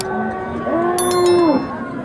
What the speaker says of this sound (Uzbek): Dahshat ho'kizlar bor ekan.